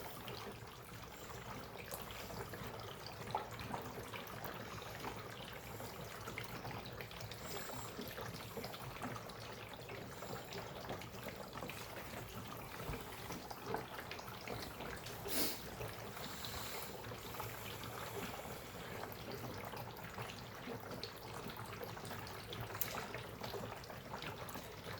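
Dry ice bubbling in a container of water as more is added, turning the water acidic; a steady, continuous fizzing and trickling wash runs throughout at moderate level, with no talk.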